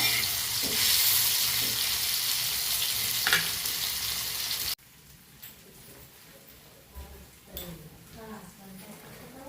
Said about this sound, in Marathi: आता ना मासे फ्राय करते